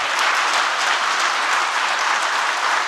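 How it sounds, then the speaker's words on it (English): A conference audience at a tech talk applauds, a dense, even wash of many hands clapping loudly and without a break from start to finish. "One more round of applause, please."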